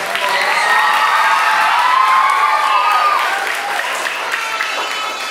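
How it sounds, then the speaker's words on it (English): Students in a school hall applaud and cheer, a loud, dense wash of clapping with shouts and whoops from children, sustained throughout before easing slightly toward the end. "let's give them one more round of applause"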